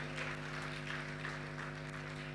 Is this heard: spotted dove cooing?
no